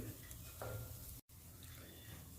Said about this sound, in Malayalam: അങ്ങനെ നമ്മുടെ ചിക്കൻ്റെ ഗ്രേവി എല്ലാം നന്നായിട്ട് വറ്റി ചിക്കൻ ഫ്രൈ ആയിട്ട് വന്നിട്ടുണ്ട്